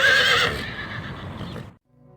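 Horses neighing loudly in a long whinny with hooves clip-clopping underneath, close up, then fading out, as a sound effect in a Spanish-language audiobook of Bram Stoker's Dracula's Guest.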